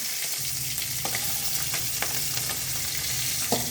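Dried sardines frying in a pan make a dense, steady sizzle close up, with a few sharp spatula scrapes and taps as the pieces are turned over.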